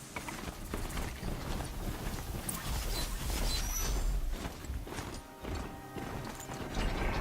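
A Corruptor machine from Horizon Zero Dawn moving nearby, a steady run of clanking mechanical footfalls and whirring gears, with no voices.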